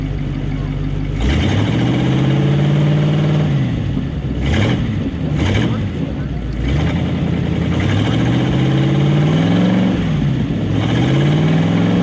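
A Ford Flathead V8-60 powered hot rod runs with its mufflers on, a loud deep idle rumble punctuated by several revs that rise and fall, heard up close with people talking nearby.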